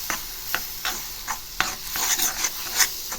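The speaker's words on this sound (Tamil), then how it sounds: "கொஞ்ச நேரம் நெய்யில் இதை வதக்கி எடுத்துக்கலாம்." A banana mixture sautéing in ghee in a pan, with close, repeated scraping stir strokes at roughly half-second intervals over a soft, continuous sizzle and no talking.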